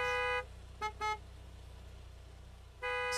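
Car horns honk in the Gas Station Simulator video game: a long sustained blast, two quick short toots, then another long blast starting at the end, loud and close over a low engine rumble.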